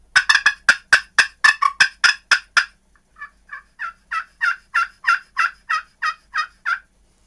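A handmade turkey call imitates a hen, sounding a fast run of sharp, loud clucks, then a steadier series of softer purring yelps, evenly spaced, with no other noise.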